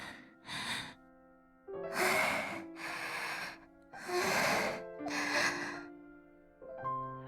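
Heavy, voiced panting from a character in the Chaos;Child visual novel comes as a series of loud, close, breathy gasps in separate bursts with short pauses between them.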